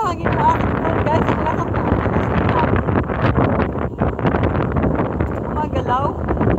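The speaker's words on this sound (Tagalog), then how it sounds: "Ay, parang mahangin mo aking phone," Strong wind buffets a phone microphone outdoors, giving a continuous low roar with gusty rumbles. People talk over it the whole time.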